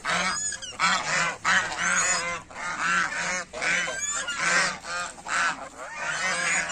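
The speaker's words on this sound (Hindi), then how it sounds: "टोटल 17 बत्तखें हैं।" A flock of seventeen ducks on a farmhouse property in Khandela gives loud, close, repeated honking quacks in overlapping bursts, with no talking.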